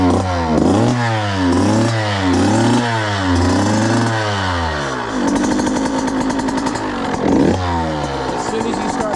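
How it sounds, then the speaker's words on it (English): A Husqvarna TC 85 dirt bike engine is heard starting and revving, with repeated rising and falling two-stroke revs before it settles into a rapid, crackling idle, loud and close throughout. "You're going to see how quick and easy this bike starts with it."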